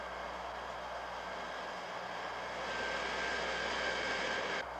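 A B-52 bomber's engines drone in a steady, loud, continuous roar with a constant whine, rising slightly in the second half, and nothing else heard over it.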